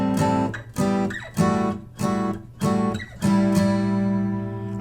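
An acoustic guitar plays a campfire riff with all down strums, giving bright, ringing chords in a steady rhythm of about six strums, some with short muted gaps. The last chord is left to ring out, close and alone.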